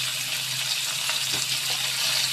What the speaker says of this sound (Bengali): এবার এর মধ্যে চাল কুমড়োর টুকরোগুলো দিয়ে দিচ্ছি